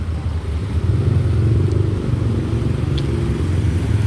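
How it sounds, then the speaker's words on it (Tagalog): Road traffic around a rider in the Philippines, a loud, continuous low rumble of motorcycle and car engines close by, with wind buffeting the microphone and a brief faint high tone partway through. "Grabe traffic oh."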